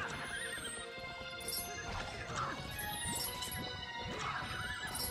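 A horse gallops in Zelda: Twilight Princess with steady clip-clop hoofbeats and repeated neighs and whinnies, close and continuous under game music.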